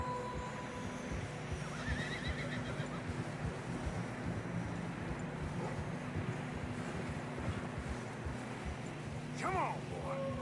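Horses whinny and their hooves clip-clop through fresh snow along a narrow trail in Red Dead Redemption 2, under a constant wind-like hiss, with a sharp neigh rising near the end.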